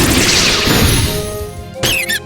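An energy explosion attack in the Manamon video game hits with a loud, noisy crashing burst that fades away over a couple of seconds, then a short, bright synthetic squeal rises at the end.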